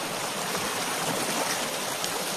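Cold water pours from a shower in a steady, dense hiss that stays even and unbroken from start to finish.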